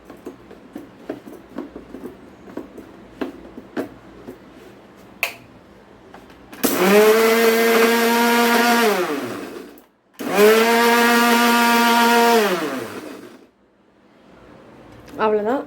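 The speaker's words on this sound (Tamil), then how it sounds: "வாங்க வெங்காய சட்னிக்கு அரைச்சிக்கலாம்." Electric mixer grinder blends onion chutney with green and dried red chillies and salt in two loud whining bursts of several seconds each, motor pitch sliding down as each run stops, after light tapping and clicks.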